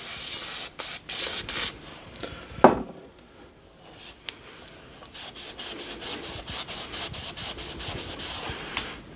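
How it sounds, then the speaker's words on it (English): Engine cylinders being rubbed and wiped clean of residue by hand, a close, raspy scrubbing in uneven strokes with short pauses and one sharper scrape partway through; no voices. "you want to rub it in the cylinders all over, clean it until there's no residue left"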